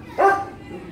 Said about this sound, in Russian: Собаки.